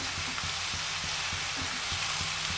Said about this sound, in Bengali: আর অল্প হলুদ লাউ বেশি হলুদ ভালো লাগে না অল্প হলুদ দিয়ে ভালো করে নেড়ে নেবো